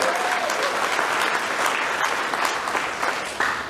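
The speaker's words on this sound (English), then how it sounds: "I'd like to hear a bigger applause for all of you who are here" Steady applause from a crowd at a Congressional Gold Medal award ceremony, sustained and fairly loud throughout with no letup.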